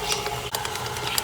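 A KitchenAid stand mixer kneads masa dough, giving a steady close motor whir with a rhythmic mechanical churn and one brief dip midway.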